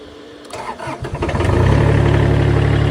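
A Vermeer S600TX compact tool carrier with over 2,000 hours cranks and starts, its glow-plug diesel catching after a few uneven turns and settling into a loud, steady, throbbing idle.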